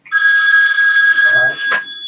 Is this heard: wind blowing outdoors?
no